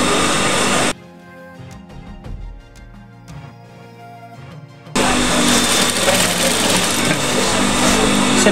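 A sewing machine stitches a shoulder seam on a lab coat in two loud, steady whirring runs with a quieter pause of faint handling and clicks between them.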